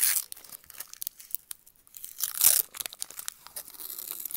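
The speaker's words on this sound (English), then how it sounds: "I take my papers off the acrylics that come, the little protective papers" Protective paper peeled off an acrylic template, a close series of crisp crinkling, tearing rips in short bursts with brief pauses, one louder rip partway through, no talking.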